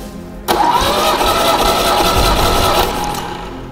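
A car engine cranks and roars for about three seconds without settling into a steady run, loud and close, after a short quiet start; this happens during a test of ten stacked cylinder head gaskets.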